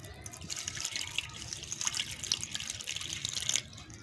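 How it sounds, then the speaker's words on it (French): Distilled water, about 240 grams, is poured onto 115 grams of lye (caustic soda) for soap making, giving a faint, steady trickling and splashing with light drips. "Donc à mes 115 grammes de soude, je vais ajouter l'équivalent de 240 grammes d'eau distillée."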